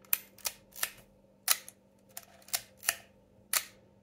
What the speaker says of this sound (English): Shutter is buttery smooth, operates nice and snappy.